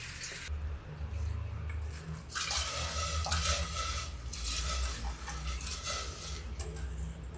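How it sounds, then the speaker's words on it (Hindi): Asafoetida water pours steadily into khichdi in a metal pressure cooker for several seconds, a continuous splashing rush with faint clinks of the vessel. "ये देखिए जो मेरा जो हींग का पानी है, ये इसमें हम डाल देते हैं खिचड़ी में"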